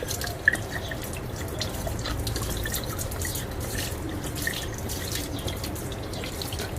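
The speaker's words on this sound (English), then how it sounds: "The pouring speed is very slow, taking more than 13 seconds to empty the bottle." Water glugs slowly out of a bottle in a steady, continuous trickle with a dripping, splashing texture, close and moderately loud with no voices.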